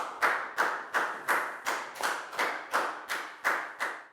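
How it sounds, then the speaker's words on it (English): Students in a class give a round of applause, heard as about eleven evenly spaced, sharp claps that sound like one close pair of hands more than a full group. "Big round of applause for Net,"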